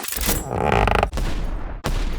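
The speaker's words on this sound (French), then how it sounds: "Il y a ces canons qui tirent vraiment." A LEGO pirate ship's toy cannon fires, heard as loud, close bursts of harsh broadband noise in three sections cut by brief gaps, more like a booming sound effect than a small click, with no speech.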